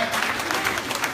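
A church congregation claps and cheers at an evening worship service, a steady, dense wash of applause with a few voices rising through it.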